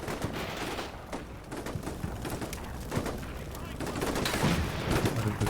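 Gunfire in the modern military strategy game Combat Mission Shock Force 2, with steady crackling small-arms volleys and sharp reports layered into a dense, continuous battle ambience, growing slightly heavier toward the end.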